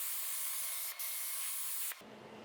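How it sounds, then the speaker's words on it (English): A steady, close hiss of a spray gun applying wood finish to shelf trim runs continuously, with two brief breaks, then drops to a quieter hiss at the end. "plus you get used to spraying with the gun"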